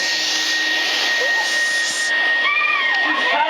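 A vacuum cleaner runs continuously at close range, sucking up cut hair after a home haircut, with a steady loud whooshing roar and voices talking faintly over it.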